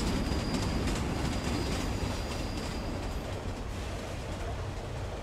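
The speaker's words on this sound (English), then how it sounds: "Jesus, how long is this goddamn train?" A long train rumbles past continuously in a horror video game, dense low clatter of wheels on rails with a faint metallic squeal, loud and unbroken from start to finish with no talking.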